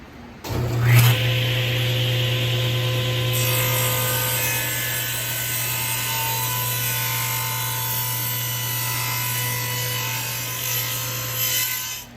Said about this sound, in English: I've set up a simple jig to hold our oak in place when we run it through the blade.